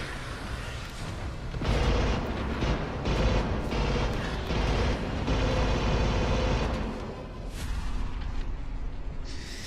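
Rapid gunfire from a sci-fi shooter, Alien: Rogue Incursion, dense and loud with booming bursts that run almost continuously for most of the stretch.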